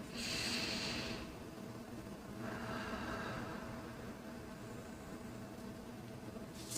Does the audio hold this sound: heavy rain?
no